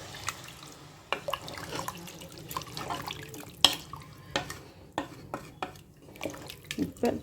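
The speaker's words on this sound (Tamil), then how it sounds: "இப்போ இதில் தண்ணி சேர்த்துக்கலாம்." Water is poured into chicken curry in a pan, splashing and dripping faintly in irregular bursts with sharp clicks of utensils and cookware over a low background.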